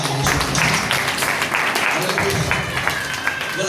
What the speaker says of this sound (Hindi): ताली बजाओ, यहाँ तक आवाज आ रही है।